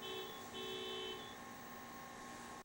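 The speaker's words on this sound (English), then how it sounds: "I don't know who keeps on honking outside." Car horns honk outside, two sustained blasts in quick succession over the first second, then a steady droning tone; muffled and distant, alone with no talk.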